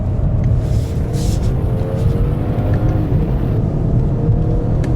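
A BMW 540i drives at speed with adaptive suspension, a steady, loud low engine drone and road rumble heard from inside the car, with no talking.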